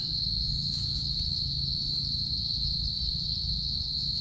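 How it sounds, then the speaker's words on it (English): Crickets chirp without pause in a forest at night, a steady high-pitched trill that holds through the whole stretch over a low rumble of background noise, with no voices. "this kind of the crickets making a noise around here every night"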